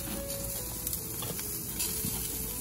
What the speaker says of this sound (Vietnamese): nhà Misu đang làm barbecue với sườn nướng này và bún chả